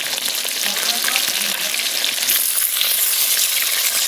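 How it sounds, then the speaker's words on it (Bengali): Pieces of rohu fish fry in hot oil, giving a steady, close, crackling sizzle that holds at an even level throughout with no voices. "মাছগুলো ভালো করে উল্টি পাল্টি লাল লাল করে ভেজে নেব।"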